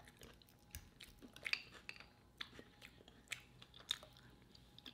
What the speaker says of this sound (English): This last bite.